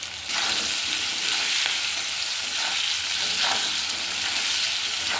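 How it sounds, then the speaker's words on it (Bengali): Potatoes with salt and turmeric fry in hot oil, giving a steady, loud, close sizzle that holds evenly throughout with faint stirring beneath. "নুন দিয়ে আর একটু হলুদ দিয়ে আমি আলুটাকে ভেজে নিচ্ছি"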